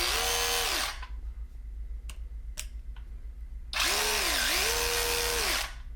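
DeWalt DCF510B sealed-head cordless ratchet, a compact power tool, whirring in two loud bursts with a short gap of faint clicks and handling noise between them, spinning up and winding down each time.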